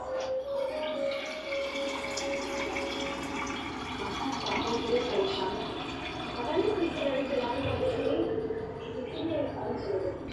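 Water is poured into a pot of Gujarati khichdi, a soft, fairly quiet trickle with small gurgles and splashes that swells briefly toward the end.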